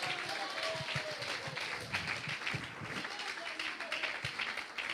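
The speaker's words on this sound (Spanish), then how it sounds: "Ese aplauso a Cristo por su sangre." Church congregation applauding during a sermon, a crowd of scattered hand claps mixed with voices, filling the room at a moderate level throughout.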